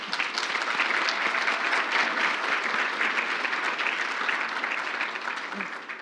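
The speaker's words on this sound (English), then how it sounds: "Let's give them a round of applause." An audience claps steadily for about six seconds at a community education leadership plenary, a dense, even wash of many hands close by with no voices over it, tapering slightly at the end.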